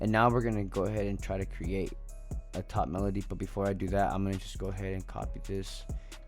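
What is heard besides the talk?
No everyday noise stands out behind the speech.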